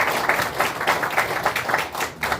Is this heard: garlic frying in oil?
no